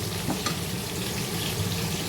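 Masala fries in oil in a kadai while stuffed karela is cooked, a continuous low sizzle and bubbling held close and steady, with a few soft knocks.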